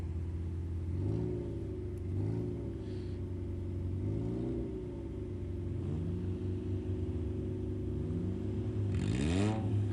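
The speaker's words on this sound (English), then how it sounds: "As the young men rev them up." Home-built rallycross cars rev their engines at a race meeting in Kenya, a steady rumbling drone with repeated rising and falling revs and a sharp final surge near the end.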